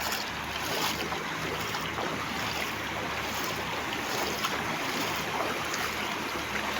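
Rushing river water churns in a broad, continuous wash with some wind, fast-flowing with a strong current, steady and close, with no voices.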